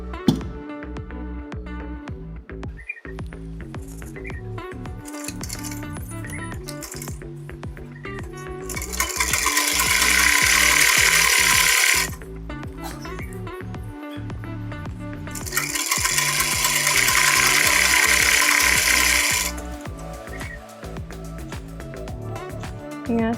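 A sewing machine stitching fabric for a ladies' paint plaza garment runs in two long, steady whirring bursts, close by, separated by quieter handling sounds.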